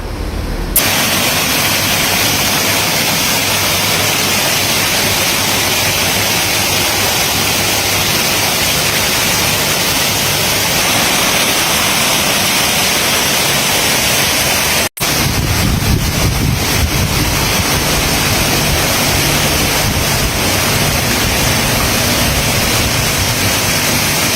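Artificial waterfall beside a garden fish pond, a steady loud rush of falling water that continues unbroken throughout, with a brief dropout near the middle and no voices.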